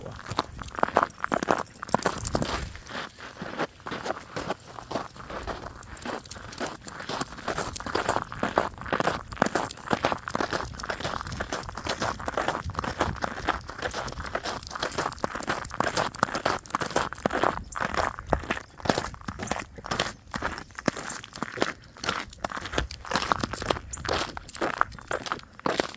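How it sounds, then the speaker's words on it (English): Crunchy footsteps sound on a frozen or crusted ground surface during a morning dog walk, each step a close, crisp crunch in a steady, even walking rhythm that continues throughout with no talking. "Listen to those crunchy footsteps, Finn."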